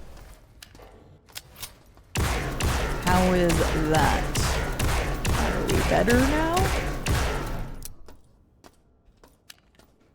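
Gunfire in System Shock (2023) crackles in dense rapid bursts for several seconds while someone talks over it, with a few isolated shots before and after.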